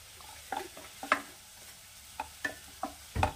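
Noodle soup is stirred after soy sauce is added. The sound is quiet: scattered, separate utensil taps and scrapes against the pot over a faint simmering hiss, with no talking.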